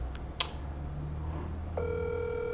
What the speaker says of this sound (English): We'll just give Jeff a ring on the phone quick and see what's happened to him.